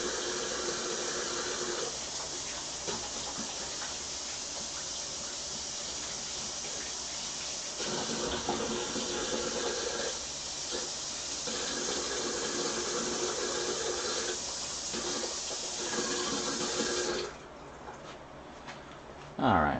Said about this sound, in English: I was just washing the knife here